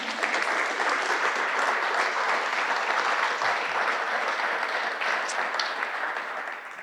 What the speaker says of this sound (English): Everybody clap for Matt